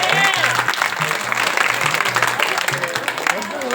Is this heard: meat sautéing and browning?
no